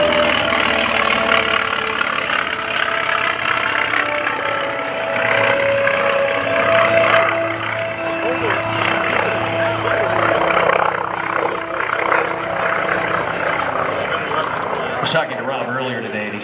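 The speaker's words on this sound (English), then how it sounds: "hear the roar of the Wildcat at Airshow Center." A Grumman F4F Wildcat's piston engine roars steadily at a 2014 Rhode Island Air National Guard open house airshow, a loud, sustained rumble while an announcer talks over it almost throughout.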